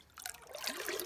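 Mahonia berry dye poured into a large pot of water for dyeing yarn, a soft close trickle and splash that builds after a brief quiet start and runs steadily to the end.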